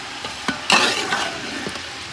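Chicken frying in a pot while a spoon stirs it, a soft sizzle broken by a few clinks and scrapes against the metal.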